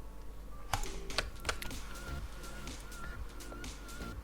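Computer keyboard keys clack in a quick irregular run of close, crisp taps, quiet and alone.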